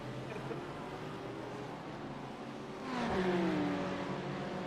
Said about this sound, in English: VTEC just kicked in, yo.